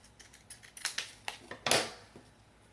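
Scissors snip through paper being cut for a small 5 x 7 canvas, giving a few faint, close, irregular crisp cuts in a quiet room.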